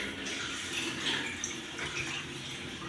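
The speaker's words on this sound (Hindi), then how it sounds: "इन्ना इन्ना आपां पानी पाई जावांगे।" Water is poured into a pot for making tea, a steady, soft splashing flow at close range, continuous for a few seconds with no talk.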